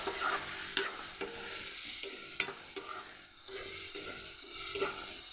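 Onions with a little salt frying in a pan for a leafy greens curry, a steady close hiss broken by regular spoon scrapes and taps against the pan, with no talking.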